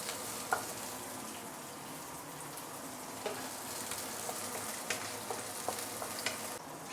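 Shallots fry steadily in hot oil, a low, even sizzle with faint scattered pops and crackles running throughout, close by and alone with no voices.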